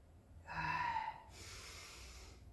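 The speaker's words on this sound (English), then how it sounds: "Breathing with sound." Audible yoga breathing: one forceful, breathy inhale-like rush through the nose and throat, then a softer, longer airy exhale, close and alone without talk.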